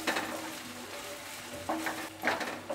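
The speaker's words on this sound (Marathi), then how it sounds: "आता आपल्याला या आलं लसूण आहे ना ते सुद्धा आपल्याला परतून घ्यायचं आहे।" Crushed ginger and garlic sauté with onion in a pan, making a soft, close sizzle with a few scraping stirs and light clinks of a utensil against the pan.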